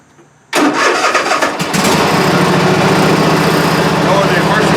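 A 46 inch zero turn mower engine cranks and fires after a quiet moment, then settles into a loud, steady, close running drone for the rest of the clip.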